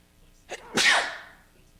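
A single sharp sneeze from a man on a live call-in troubleshooting show, heard close with a small intake sound just before the main burst, alone with no talk.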